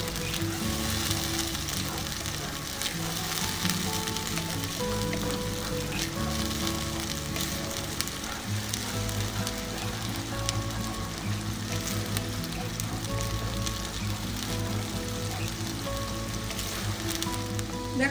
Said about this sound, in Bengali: আদা কাঁচা লঙ্কার যে পেস্টটা, এটাকে আমি একটু ভাজা ভাজা করে নেব